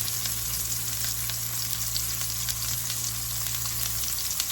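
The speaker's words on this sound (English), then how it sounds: "Now what you want to do is brown both sides" Pork chops browning in a hot pan, a steady dense sizzle and crackle of frying that holds evenly throughout with small pops, close and fairly loud, no voices.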